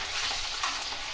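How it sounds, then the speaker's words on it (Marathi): Crispy corn deep-frying in oil over full gas, giving a steady, dense bubbling sizzle heard close and alone throughout the short stretch. "फुल्ल गॅसवरच तळायचं"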